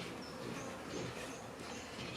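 A naked honeybee swarm hanging in the open, being gathered into a small hive box, gives a steady, dense, continuous hum of many bees that stays even throughout without speech.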